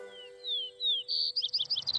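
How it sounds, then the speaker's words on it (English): A small bird chirps close by, first with a few drawn-out whistled notes, then a rapid run of short tweets, alone against quiet background. "It's a bird."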